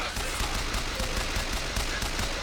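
Full-auto Repeater fire from Bioshock Infinite, a dense, continuous rattling burst of rapid shots that stays loud and steady throughout with no pauses.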